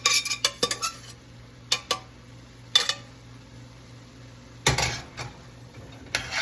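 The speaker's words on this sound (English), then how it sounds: "Fold all those vegetables into our noodles." Noodles and vegetables folded together in a veggie ramen stir fry, with a utensil knocking against the pan in scattered clinks and scrapes, several bursts close by, separated by quiet gaps.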